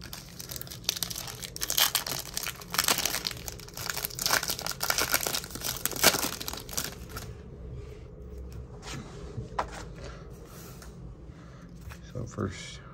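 A Series 1 hockey card pack wrapper is torn and crinkled open up close, bursts of sharp crackling foil rustle for several seconds that then trail off into quieter handling, with someone talking over it.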